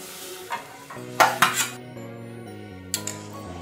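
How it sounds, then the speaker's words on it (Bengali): A spoon stirring boiled dal into softened cooked vegetables in a pot, with a few scraping clinks against the metal at an uneven rhythm, close and moderately loud, no talking. "অ্যাড করে দিয়ে ভালো করে একটু নেড়ে দিচ্ছি।"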